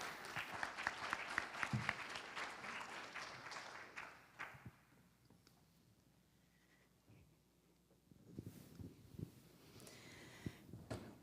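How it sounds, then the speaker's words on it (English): Audience applause in a conference hall, a burst of dense clapping that fades away over several seconds, followed by quieter scattered claps and some room noise, heard from a distance. "Please give a round of applause."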